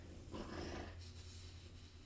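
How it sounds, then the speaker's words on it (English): A quiet French bulldog snoring nearby, a soft rasping snort followed by low, steady breathing rumble. "my dog is snoring in the background."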